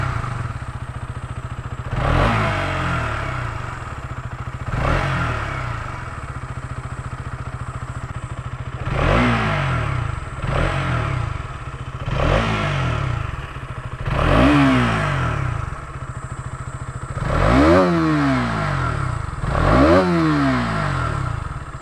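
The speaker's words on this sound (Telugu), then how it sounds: "ఇంజన్ ఆన్ చేసి కూడా సౌండ్ వినిపిస్తాను ఎలా వినిపిస్తుందో సో ఇంజన్ స్టార్ట్ చేస్తున్నాం" A KTM Duke 200 BS6 motorcycle engine runs close by and is revved repeatedly, each throttle blip rising and falling in pitch over a steady idle rumble, with no talk.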